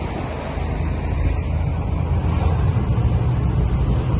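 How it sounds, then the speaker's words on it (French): Strong stormy wind buffets the microphone on a farm during loading work, a loud, steady low roar with gusty rumble and no voices. "Il y a un vent de fou."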